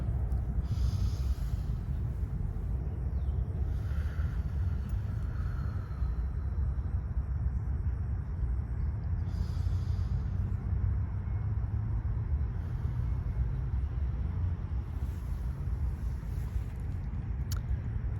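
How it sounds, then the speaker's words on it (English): A nervous person takes slow, deep breaths close to the microphone, a loud, steady, breathy rush with nasal snorting textures that runs unbroken for the whole stretch, with no talking. "Let's take a deep breath."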